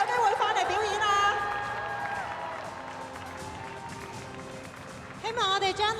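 An audience at a diving exhibition claps and cheers, with dense applause that fades into a steady murmur before rising again, and a voice speaks over it.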